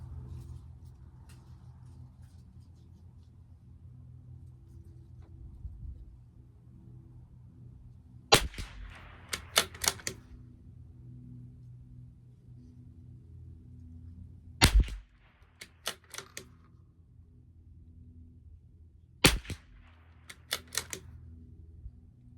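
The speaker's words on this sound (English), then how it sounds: "I think we should shoot a 10-shot group now." Three sharp reports from a Tikka T1x .22 rifle firing Norma Match ammunition at 50 yards, each followed by quick clicks of working the bolt, spaced several seconds apart over a quiet low hum.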